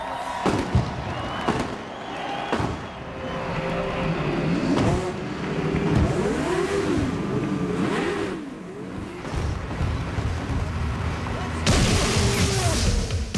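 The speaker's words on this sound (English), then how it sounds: "Drivers, start your engines." Champ Car open-wheel race cars fire up and rev on the San Jose street circuit, engines rising and falling in overlapping revs beneath a crowd murmur and occasional thumps, with talk mixed in.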